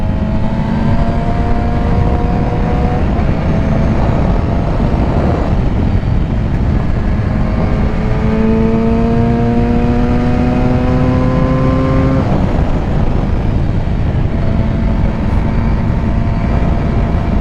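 A sport motorcycle, a 2006 Triumph Daytona 675 or 2007 Yamaha YZF R6, roars close and loud through repeated rising pulls under throttle, with a drop between gears, steady wind rush and no talk.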